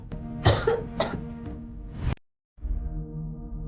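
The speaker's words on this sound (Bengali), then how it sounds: "ঠান্ডার কারণে সে কাশি শুরু করেছিল" A person coughs several times in quick, harsh bursts, clearing the throat, then a brief silence before a low murmur resumes.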